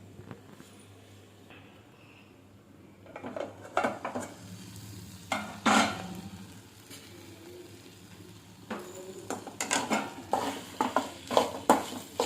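Tomatoes and ivy gourd cooking in a covered pan over medium heat, a soft sizzle with scattered stirring and clanks of a utensil against the pan, quiet and intermittent, no voices.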